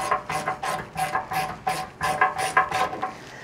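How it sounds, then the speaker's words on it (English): Ratchet wrench loosening a tow hook bolt on a third-generation Ford Raptor, giving a close, loud series of rhythmic ratcheting clicks in quick bursts. "hopefully I can at least just get it loose enough with that end wrench that we can get it off."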